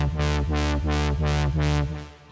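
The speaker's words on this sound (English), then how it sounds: "what you're hearing here is the LFO." An AJHSynth MiniMOD synthesizer tone is swept by a fast triangle-wave LFO, the filter opening and closing about six times in quick, even pulses, bright and buzzy, ending with a short click.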